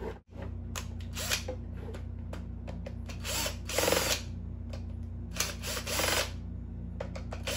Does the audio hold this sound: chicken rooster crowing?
no